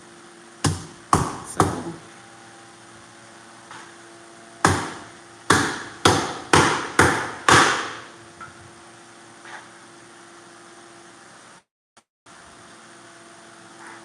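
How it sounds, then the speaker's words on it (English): Sharp cleaver chops strike a cutting board while cutting up a fish head, a few at first and then a quick run of five or six heavy blows, with quiet room hum between. "basically chopping up the fish head"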